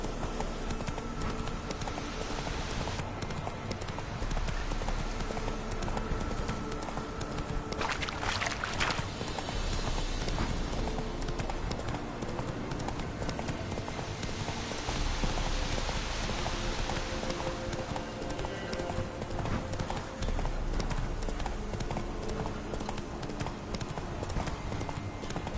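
Hooves of Roach, the horse in The Witcher 3, clip-clop in a steady fast rhythm under continuous rain and ambient game noise, loud and close throughout.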